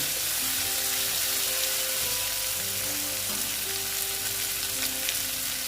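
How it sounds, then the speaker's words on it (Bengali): Chopped tomatoes fry in a pan for a spicy Bengali katla fish curry, giving a loud, continuous, close sizzle with a faint stirring texture throughout and no speech. "আমি আবার ভালো মতো ভেজে নেব টমেটোর যেন কাঁচা গন্ধটা"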